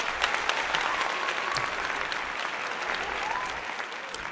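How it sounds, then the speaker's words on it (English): A crowd applauds in a sustained burst of clapping, dense and even across the whole stretch with a few sharper individual claps standing out, no talk over it. "let's get a round of applause"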